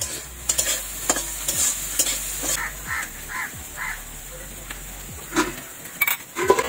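Prawns sizzle steadily in a hot pan while being cooked for a Bengali lau chingri dish, with scraping and knocking from a utensil as the pieces are turned over.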